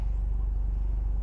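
A steady low engine rumble from a Honda Civic FE with a JTC aftermarket exhaust idles close by, smooth and even with no revving, filling the moment without any talking.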